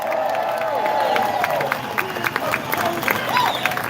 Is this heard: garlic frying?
no